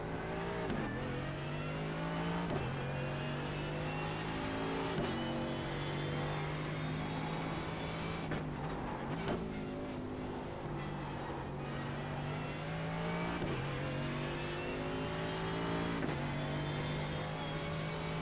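A Mercedes AMG GT3 race car engine in the iRacing game at Sebring, heard as a steady high-revving roar with repeated rising gear-change sweeps and brief lifts, continuous and close throughout.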